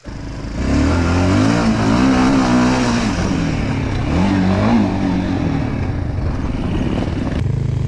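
A motorcycle with no exhaust pipe revs loudly and raggedly, rising and falling in pitch over several seconds, harsh and unmuffled, close to the listener.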